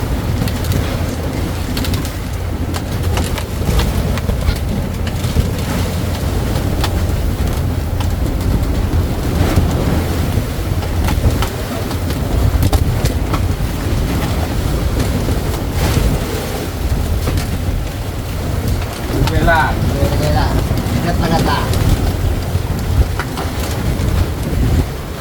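Big sea waves slap and crash against the side of a fishing boat in the West Philippine Sea during a squall, a continuous loud roar of water, wind buffeting and engine rumble with no one speaking.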